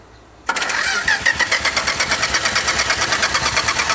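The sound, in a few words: race car engine cranking and starting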